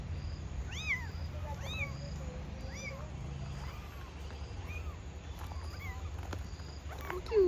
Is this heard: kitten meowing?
yes